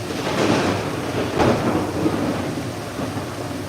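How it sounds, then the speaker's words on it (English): Thunder rumbles low and heavy through steady pouring rain, with a sharper crack partway through and a continuous hiss of rainfall all around. "it is thundering and lightning like crazy"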